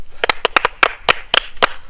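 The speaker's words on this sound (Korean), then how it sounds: "자, 1번 훈련병 박수." A military trainee claps his hands in a quick run of about nine sharp, close claps, evenly paced over two seconds.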